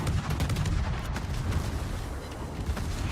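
Video game gunfire in a competitive match, dense rapid shots and booms layered into a loud, continuous barrage with no voices.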